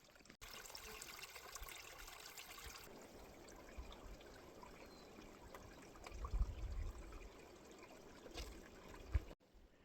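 Water trickles and splashes from a trail spring as a container is filled, a faint continuous dribble with a few louder gurgles and knocks near the end.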